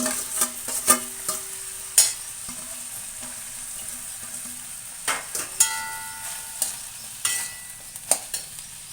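Okra pieces frying with onions in a pan give a continuous close sizzle, punctuated by scattered sharp clinks and scrapes of stirring, with no voices.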